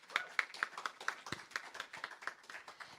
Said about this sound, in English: give a great round of applause, pat on the back to all of our volunteers